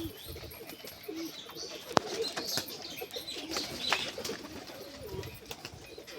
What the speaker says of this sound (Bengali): দেখি যদি খেলে পায়রাটা।